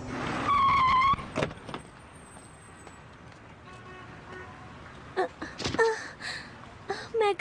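Cartoon car comes to a stop with a short horn toot and squealing brakes, followed by quieter engine sound and further brief squeaks and honks near the end.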